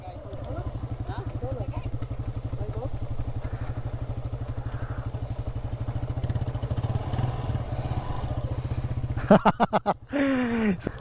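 A motorcycle with a new rider creeps down a steep, dangerous descent, its engine a steady low drone that breaks into clattering thumps near the end, with voices talking over it.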